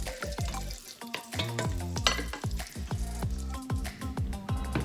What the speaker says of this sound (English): First, we're gonna get this bacon cooked. Get it all good and brown.